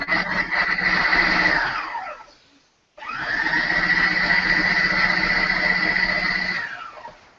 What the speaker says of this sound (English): I am going to just pulse these until they are pureed enough to go into my meatloaf